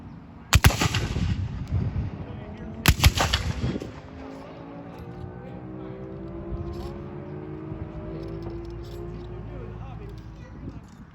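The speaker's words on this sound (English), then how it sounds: "Aim. Fire. Loading and firing." Civil War reenactors of the 150th New York State Volunteers fire musket volleys outdoors at a brewery, two sharp loud cracks a couple of seconds apart, each with a ragged rumbling tail, followed by steady outdoor noise and people talking.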